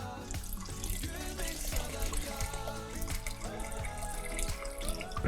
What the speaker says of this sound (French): on a mis de l'eau